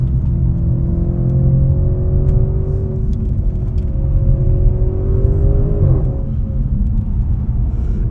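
Modified 2015 Audi S6 engine heard from inside the car, a loud steady drone with rising tones that drop sharply at a shift partway through, then a continued rumble as it pulls again.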